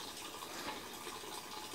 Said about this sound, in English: That means water go now through the tank